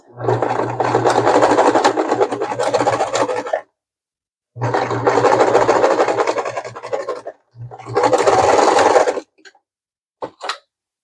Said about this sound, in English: we're going to make sure we backstitch because we don't want those to unfray. We use a short stitch length